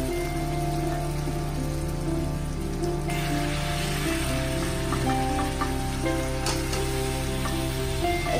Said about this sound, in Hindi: अच्छे से मसाला रोस्ट हो चुका है, तेल भी छूट चुका है, तो इसमें मैं डालना चालू करूंगी चिकन के पीसेस